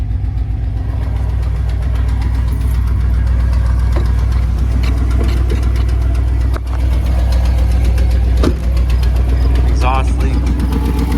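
A Dodge Ram engine with a new muffler idles loud and close in a steady, deep rumble with a faint rhythmic knock, nearly unbroken apart from two brief dips.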